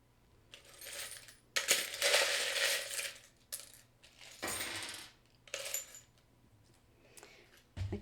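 Small metal charms are shuffled and tossed together in bursts of bright jingling clatter, pausing briefly between handfuls, close and fairly quiet.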